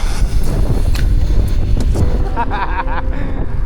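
Strong wind in Taiwan buffets the microphone with a loud, steady roar, and faint voices can be heard underneath.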